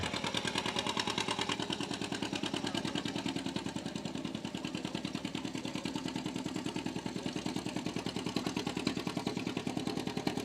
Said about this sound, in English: Here we go, Ron Brewer with his John Deere G.